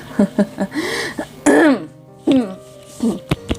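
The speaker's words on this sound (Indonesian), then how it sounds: "Sisa-sisa batuk masih ada." Several short, rough coughs and throat clearing in a quiet room, with brief spoken sounds between them.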